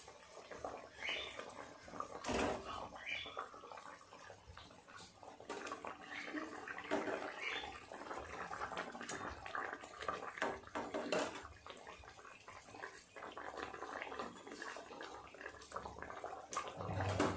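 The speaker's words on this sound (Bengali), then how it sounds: "ঝোলটা খুব ভালোভাবে ফুটে গেছে" Fish curry gravy boils in a pan, a quiet, uneven bubbling and watery churning that continues throughout, with a soft voice murmuring now and then.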